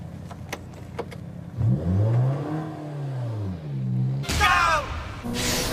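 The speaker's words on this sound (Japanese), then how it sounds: "戸田スペシャルの F20C は突き抜けるような加速で気持ちよさそう" Honda S2000 with a Toda Special F20C engine accelerating hard on a mountain touge road, a loud rising and falling engine howl that builds over several seconds, with quieter engine noise before it and a sharp closer burst near the end.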